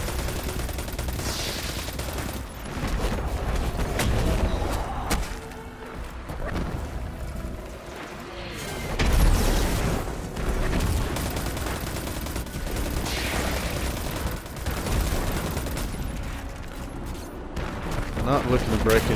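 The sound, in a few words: gunfire from a Forge weapon in the video game Destiny 2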